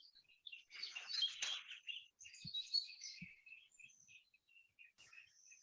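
Birds chirp and twitter outdoors in quiet countryside, bright overlapping calls near and far with brief pauses, a couple of soft low knocks between them and no talking.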